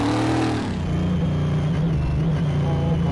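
Rebuilt Tempest Magnum muscle car engine in Car Mechanic Simulator 18, revving loud and close, pitch falling and settling into a steady, rumbling roar.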